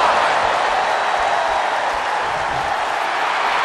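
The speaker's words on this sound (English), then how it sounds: "The sound of this crowd is deafening, and he's asking for more." Loud, dense crowd roar from a WWE 2K22 Hell in a Cell match between Undertaker and Edge, a steady wash of cheering filling the whole stretch without a break.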